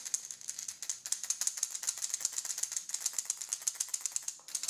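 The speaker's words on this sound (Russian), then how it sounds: "Вот такая вот небольшая погремушечка, однородная погремушечка в виде Astrolog 115 SP." Rapid, continuous clicking of the rattle inside a Tsuyoki Astrolog 115 SP fishing wobbler lure as it is shaken, close up and fairly quiet.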